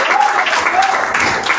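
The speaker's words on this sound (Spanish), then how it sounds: "Dele fuerte el aplauso al Señor." Brief burst of congregational clapping during a church service, loud and steady with voices mixed in over the short stretch.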